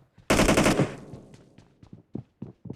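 Automatic gunfire in the mobile battle royale game BGMI: one loud sustained burst of rapid shots, then a string of quieter scattered single shots and thuds.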